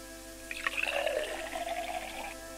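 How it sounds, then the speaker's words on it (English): Cold water splashes onto a face in the video game Mother Simulator, a short close pour lasting about two seconds over a steady background hum. "Just dump the cold water on your face."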